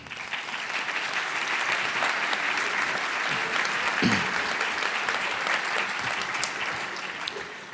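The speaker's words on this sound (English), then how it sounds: "Round of applause for them, please." A room of attendees at a Teacher of the Year awards ceremony gives the awards committee a sustained round of applause. Thick, even clapping carries on for several seconds, with a brief murmur of voices partway through.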